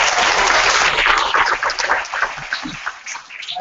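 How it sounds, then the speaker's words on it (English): Audience applause at a startup demo day, a dense, steady wash of many hands clapping that dips slightly toward the end, with no talk over it. "Clap."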